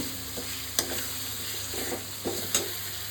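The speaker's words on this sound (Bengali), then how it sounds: "দেবো নুন, দেবো হলুদ, সমস্ত কিছু ভালো করে একটু নাড়বো" Spices, salt, turmeric and tomato fry in a pan for a vegetarian aloo dum while a spoon stirs them. A soft continuous sizzle runs underneath, and scraping strokes and clinks sound close up every second or so.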